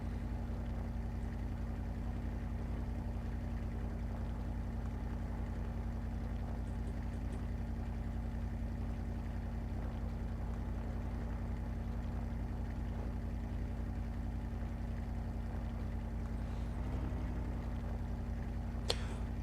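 An off-road vehicle engine in Spintires idles in a steady low drone, its intake clogged with mud, continuous and even with no talking.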